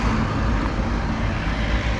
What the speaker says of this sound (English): Apologize for the loud noise, trash truck went by.